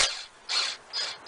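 A wrench works on a bolt on a Toyota 3.4L 5VZ-FE engine, making three short, bright ratcheting bursts with brief pauses between them, close and moderately loud.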